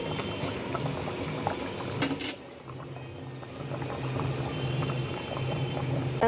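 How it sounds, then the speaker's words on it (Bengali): Hilsa fish curry with eggplant, seasoned with salt, turmeric and green chili, simmering slowly in a pot; a soft, steady bubbling hiss runs throughout, with a brief clatter of cutlery near the two-second mark. "আস্তে ফুটতে ফুটতে এই যে তেল ছেড়ে দিয়েছে"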